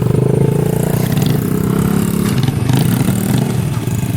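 A motorcycle engine runs close by with a constant, loud, rough mid-pitched drone, held steady throughout with little change in revs.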